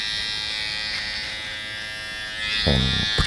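Electric hair clipper trimming a man's hair, a steady high buzzing drone that shifts in pitch near the end as the blades bite into hair, close and fairly loud with no speech.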